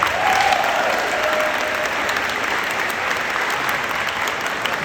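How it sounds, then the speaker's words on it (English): Sustained audience applause fills a high school end-of-year awards ceremony, a steady wash of many hands clapping from start to finish with a faint whistle early on. "Can I get a round of applause?"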